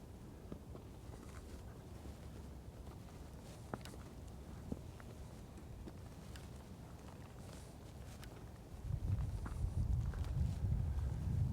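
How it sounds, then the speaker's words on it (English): Footsteps crunch steadily on a path while walking up to the main gates of Burg Frankenstein castle, with occasional sharper scuffs over a constant windy outdoor background that grows louder near the end. "Aside from the sound of our footsteps and the wind"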